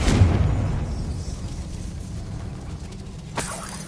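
The Confringo blasting spell in the game Hogwarts Legacy goes off as a deep booming explosion that starts loud and close, then trails into a rumbling decay with a faint sharp crack near the end.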